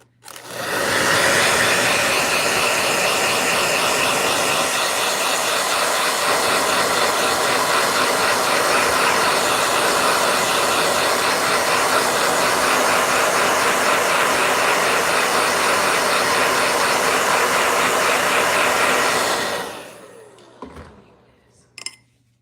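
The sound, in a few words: blow dryer running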